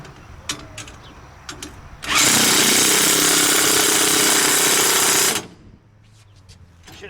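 An 18V cordless half-inch impact wrench, a Milwaukee M18 or Snap-on model, hammers hard against grade 8 bolts in one loud, continuous burst of about three seconds, with quieter clicks and shop noise before and after.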